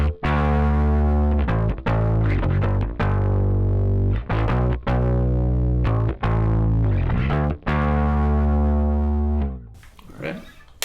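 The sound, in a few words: bass guitar played through rig without the edge pedal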